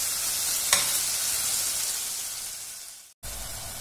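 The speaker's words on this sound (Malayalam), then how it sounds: "ഇനി നമുക്കിതിലേക്ക് തക്കാളി ആഡ് ചെയ്ത് കൊടുക്കാം. നന്നായിട്ടൊന്ന് മിക്സ് ചെയ്ത് കൊടുക്കാം." Tomatoes and broccoli sizzle in butter in a pan, a steady close hiss with one early stirring click and a brief cut-out near the end; no talking.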